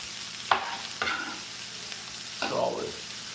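Bacon sizzling as strips are laid into a hot pan: broadband frying hiss with crackling bursts as each piece goes in, close and steady, no speech.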